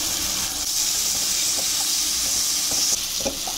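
Chopped tomatoes hit a hot pan already holding salt, turmeric, Kashmiri chilli, ground coriander and roasted spice, giving a loud, steady close-up sizzle with faint stirring scrapes throughout.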